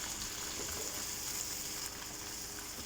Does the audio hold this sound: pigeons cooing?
no